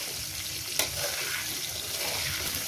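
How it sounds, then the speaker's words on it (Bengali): Thick-cut potatoes frying in oil as they are stirred, giving a steady close sizzle with a single sharp clink of the utensil early on. "5-7 মিনিট ধরে আমি আলুটাকে ভেজে নেবো"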